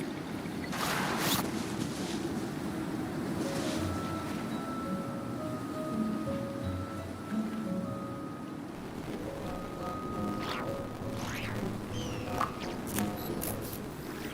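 A boat carving through waves in the video game Genshin Impact, a steady rushing wash of water with faint tonal game sounds layered over it, continuous and fairly close throughout.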